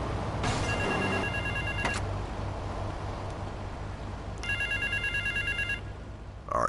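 A payphone rings in Grand Theft Auto: Vice City, sounding in two bursts of electronic trilling, one early and one near the end, over a steady game background hum.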